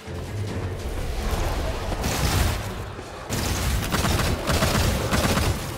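Bursts of gunfire in the video game Immortal: Unchained crackle in rapid volleys with booming hits, loud and dense, broken by a brief lull midway.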